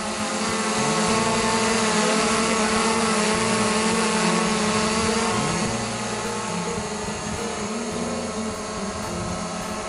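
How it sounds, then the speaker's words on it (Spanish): A DJI Mavic Pro drone hovers close by with a steady, loud propeller whine and buzz that holds for the full ten seconds, without talk. "una vez que ya vemos que, el drone es estable"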